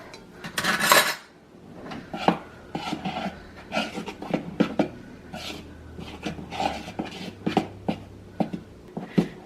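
Dry powdery baking ingredients, flour with salt, for tahini rolls being stirred in a bowl with a utensil, making repeated scraping and clinking strokes at close range, with a louder burst of rubbing near the start.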